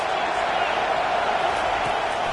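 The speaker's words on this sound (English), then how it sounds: "This crowd trying to make life miserable for this offense." A college football stadium crowd roars continuously as a dense, loud, unbroken wash of massed voices, with no distinct cheers or claps standing out.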